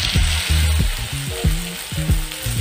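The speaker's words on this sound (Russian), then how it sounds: "Теперь выкладываю грудки с сыром." Chicken breasts with cheese laid into hot oil in a small frying pan, sizzling and crackling steadily throughout, close and fairly loud, with no talking.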